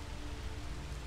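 Steady, quiet rain hiss with no distinct drops or pauses in The House of Da Vinci puzzle game, an even wash of ambient rainfall, no voices over it.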